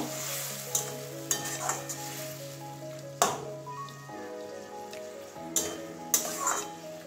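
Water hits a frying pan of pointed gourd, setting off bursts of sizzling over a softer steady frying hiss, close up, with stirring clatter.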